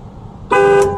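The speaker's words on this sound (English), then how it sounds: "Ooh, I keep hitting the horn." A 1963 Rover P4 110 car horn sounds once, a sudden loud steady toot lasting about half a second, heard from inside the car after a quiet moment.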